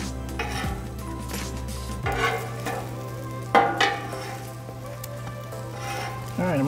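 French toast on a Camp Chef FTG600 flat top griddle gives a steady low hiss of frying under faint clinks of a spatula and utensils, with a few louder scraping knocks, no talk.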